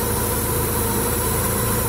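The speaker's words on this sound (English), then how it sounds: "Engine's running, everything's fine." A 1994 Honda Accord engine idles steadily, a loud, close, even low rumble with a fine rhythmic pulse and no voices.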